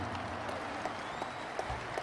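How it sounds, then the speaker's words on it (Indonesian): A crowd at a political party gathering in Indonesia applauds steadily, a dense wash of clapping with a few sharper claps standing out, sustained throughout. "Kita berikan tepuk tangan untuk Ketua Umum Partai Demokrat Mas Agus Harimurti Yudhoyono."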